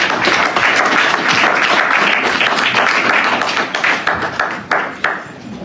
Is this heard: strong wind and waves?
no